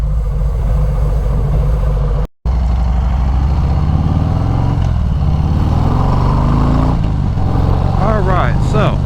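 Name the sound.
motorcycle riding, engine cruising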